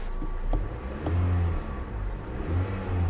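A Chevy engine idles steadily at close range, a low throbbing rumble that swells slightly a couple of times.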